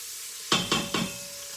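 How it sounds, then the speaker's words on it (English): Bacon crisping up in a frying pan gives three short, evenly spaced bursts of sizzle and stirring over a quiet background, with no talk. "so we have that bacon crisping up"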